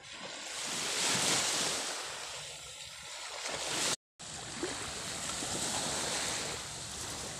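Ocean surf rolls onto a seaside beach in broad, washing swells, with wind buffeting the microphone and a brief dropout midway; no voices.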